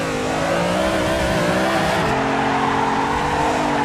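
A car slides sideways through a handbrake drift in the Assetto Corsa racing game, its engine droning steadily with tire squeal close and loud throughout, no talking.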